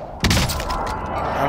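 A sudden sharp crack and shattering burst of armor breaking in Call of Duty: Warzone, followed by a short crumbling tail over a steady background rumble.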